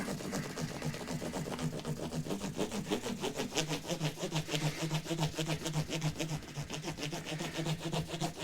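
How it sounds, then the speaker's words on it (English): Steady back-and-forth scraping of sandpaper on the metal frets of a Harley Benton CST 24 electric guitar, fast regular strokes repeating without pause for several seconds. "having rounded off these frets, Aaron, and sanded them like this"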